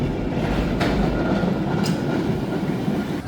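A San Francisco cable car tram, braked by hand by a crew member at the rear, gives a steady rolling rumble with a couple of brief metallic squeaks.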